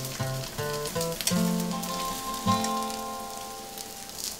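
Spaghetti fries in a pan alongside cooking meatballs, turning a bright candied colour, giving a steady close sizzle that runs under tonal background music without talk.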